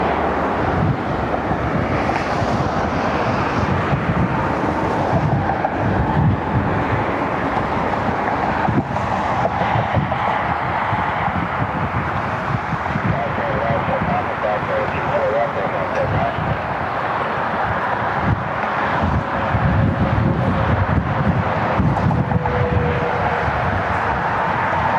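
Wind buffets the microphone in a steady rushing roar for a long stretch at Cleveland Hopkins airport, with low rumbling gusts and a faint distant engine drone.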